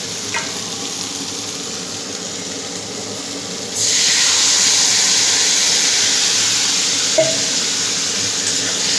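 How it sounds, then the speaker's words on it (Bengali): A pan of potato and bitter gourd curry sizzles softly until water is poured in, which sets off a sudden, much louder hissing sizzle that holds steady afterward. "এবার জল দিয়ে দেবো।"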